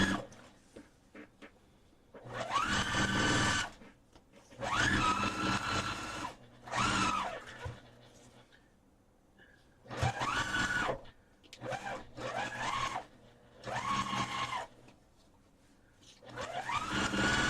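A home sewing machine stitches Christmas quilt pieces together in loud motor bursts of one to two seconds, separated by short quiet pauses, with no talking.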